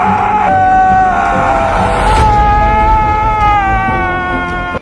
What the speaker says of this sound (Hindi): इसके बाद वो बहुत जोर से चिल्लाता है।